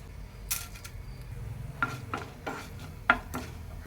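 Small crackles and pops from mustard seeds and urad dal lentils spluttering in hot oil, scattered irregular bursts close by, with a low steady background hiss.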